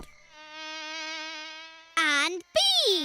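A voice imitates buzzing bees in a children's lion cartoon, a sustained wavering buzz followed by two shorter, louder vocal bursts.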